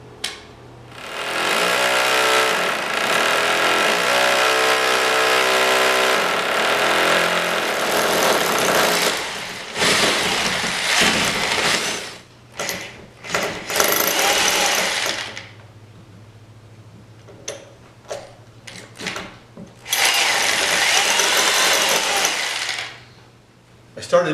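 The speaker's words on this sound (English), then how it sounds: "I'm going to drill the hole right here in the grout line" A power drill whirs in long, steady bursts with brief stops between them, grinding close up as it bores into a tile grout line.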